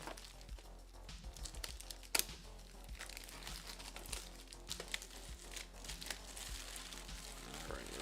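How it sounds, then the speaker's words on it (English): Scissors snipping and tearing open Pokemon card packaging, crinkly plastic rustles and crunches with a sharp cut near two seconds, close and moderately loud, no talking. "I'm actually going to use scissors for this."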